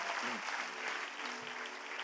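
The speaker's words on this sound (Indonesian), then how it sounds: "Boleh kasih tepuk tangan buat kita Mahanaim sama-sama." A church congregation claps during a special anniversary service, a faint, continuous patter of applause heard from a distance, with a short vocal sound near the start.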